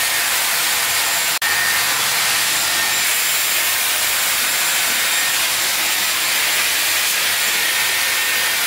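A Dyson Airwrap hair styler runs at full heat and full fan speed. It makes a constant, loud, airy rush that is unbroken throughout, with a single click near the start.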